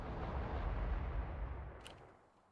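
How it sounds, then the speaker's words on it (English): Delivery cannons fire in the Space Exploration game as a deep, rumbling low boom that swells and slowly fades over a couple of seconds, with a faint higher crackle near the end. "Oh, that was the cannons. The delivery cannons."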